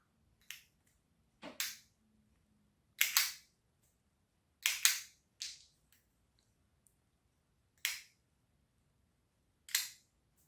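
A 3D printed rubber band gun snaps off shot after shot, crisp separate clacks spaced a second or two apart, some doubled, close by and otherwise quiet.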